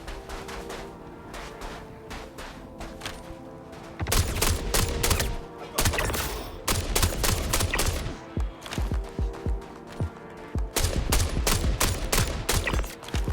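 Unsuppressed Gemini S71 rifle in Star Citizen, heard first in quieter, softer bursts, then in loud, sharp rapid shots and repeated bursts at close range.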